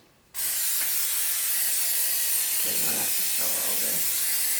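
A can of cooking spray greases a muffin pan for cinnamon sugar donuts, one continuous close hiss starting abruptly and running to the end, with faint clatter partway through.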